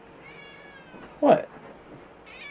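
A single short meow from a nearby cat, loud against a quiet room, with a brief spoken word just before it.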